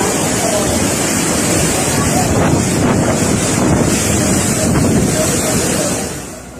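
Fierce tornado wind roars steadily and loudly, a dense broadband rush buffeting the microphone throughout, with gusting surges before it eases slightly at the end.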